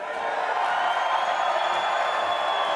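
At the 2019 Mosconi Cup pool event, an arena crowd roars and cheers in a steady, sustained wash of noise that holds loud and unbroken throughout.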